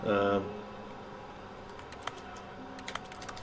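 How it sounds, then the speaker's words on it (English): Keyboard typing clicks from tapping buttons in The Stanley Parable video game, a few faint, scattered taps after a brief burst of voice at the start. "If you tap buttons, makes it sound like you're typing on the keyboard."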